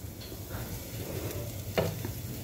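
Coriander and sesame thalipeeth flatbread roasting in oil on a pan, a soft, steady sizzle with a faint scrape near the end and no talking.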